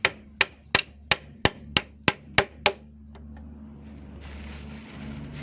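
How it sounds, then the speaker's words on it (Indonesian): Nine sharp hammer blows drive nails into a wooden frame in a quick, even rhythm, close and loud, then give way to low background rumble. "Setelah dijepit baru dipaku ya teman-teman."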